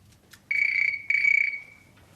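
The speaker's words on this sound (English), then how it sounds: "the telephone is ringing" A telephone rings with two short electronic trills, close and clear, each burst about half a second long and separated by a brief gap, over a quiet room.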